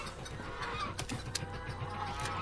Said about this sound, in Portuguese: Sai pra lá, sua galinha nojenta.